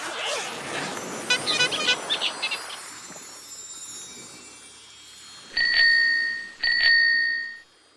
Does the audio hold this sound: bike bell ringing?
yes